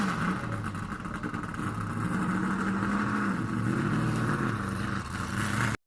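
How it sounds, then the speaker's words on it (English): Race car engines fire up and rumble together at Talladega ahead of the start, a steady loud drone with rising and falling revs and no talk over it, cutting off abruptly at the end. "Drivers, start your engines!"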